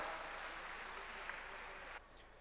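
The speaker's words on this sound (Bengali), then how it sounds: "স্যারের জন্য জোরে করতালি আহ্বান করছি" Steady applause from an audience at a company's 37th anniversary ceremony, dense and continuous for about two seconds before dropping to a quieter tail.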